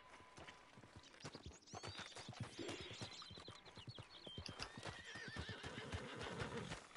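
A horse in Red Dead Online whinnies over a steady clip-clop of hooves, with several neighs in a row over the rhythmic hoofbeats.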